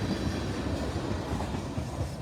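CSX freight grain train rolling over the rails near a curve at Mortons Gap, Kentucky, a continuous loud rumble with steady rhythmic clatter of wheels on track, no talk.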